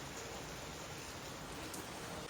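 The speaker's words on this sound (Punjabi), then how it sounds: "ਜਮਾ ਬੱਦਲ ਨਹੀਂ ਹੈਗਾ ਤਾਂ ਵੀ ਮੀਂਹ ਪਈ ਜਾਂਦਾ" Rain falls in the open as a steady, even hiss of drops, faint and distant, with no voices.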